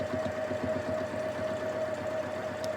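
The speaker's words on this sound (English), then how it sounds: "Now I'm going to go to this next section and then up and down that line" A sewing machine runs free-motion quilting stitches on a double wedding ring quilt in a steady, rapid, close mechanical chatter with a faint motor whine and no voices.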